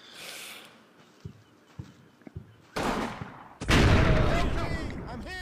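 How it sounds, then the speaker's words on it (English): Gunfire in the Combat Mission: Battle For Normandy video game, with scattered sharp shots followed by louder bursts of fire in the second half. "every single shot from that machine gun he's missing with"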